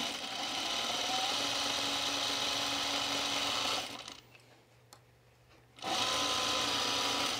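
A serger stitching a seam on pajama bottoms, loud and continuous, its rapid whirring hum pausing briefly for about two seconds before starting up again at full speed.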